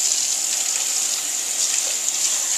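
Tap water runs steadily over deveined shrimp being rinsed in a kitchen, giving a continuous close hiss and splash with no break throughout.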